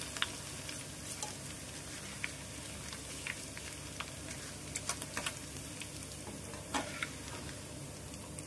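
Flattened rice (poha) frying in hot oil inside a sieve, a steady soft hiss and sizzle with occasional small crackles and taps, close but fairly quiet, with no talking.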